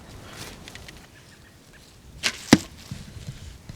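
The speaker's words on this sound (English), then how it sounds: "we're going to shoot this zombie target real quick and just have some fun with it" Two arrows strike a Hips youth zombie foam archery target in quick succession, sharp close thwacks a fraction of a second apart against a quiet outdoor background.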